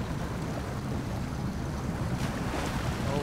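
Steady churning rush of a truck ploughing through water in SnowRunner, a broad constant splash and rumble without pauses, heard alone and fairly loud.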